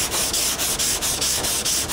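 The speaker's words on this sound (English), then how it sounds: "So sand down to the line." A sanding block rubbed back and forth over the body panel of a 1969 Dodge Charger, close and steady, with about eight rhythmic gritty strokes in quick succession and no talking.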